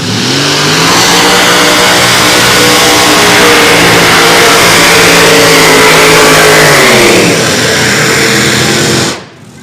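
A pulling tractor's engine roars loud and sustained at a tractor pull event, revving hard and steady through the final pull of the day before its pitch sags and the sound cuts off abruptly near the end.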